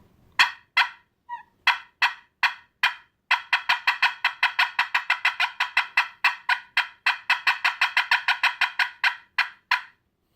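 Aluminum friction turkey call worked to imitate hen cutting: a fast series of sharp, loud, clucking notes, sparse at first and then in rapid, irregular bursts, close and alone without talk.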